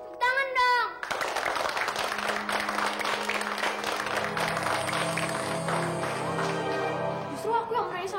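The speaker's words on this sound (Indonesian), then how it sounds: "Tepuk tangan dong." Applause and clapping hands break out in a scene from an Indonesian TV drama, starting abruptly after a brief voice and continuing steadily, mixed with background music and some talk.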